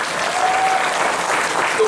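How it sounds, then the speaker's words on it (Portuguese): Dense, steady clapping from a church congregation fills the whole moment, loud and continuous without pause. "Vamos dar uma salva de palmas para o Tombé."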